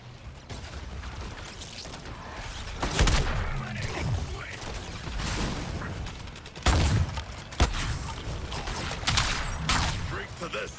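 A cannon firing a barrage in Suicide Squad: Kills the Justice League: rapid booming volleys in loud bursts over a constant noisy battle backdrop, with several sharp, heavy hits standing out.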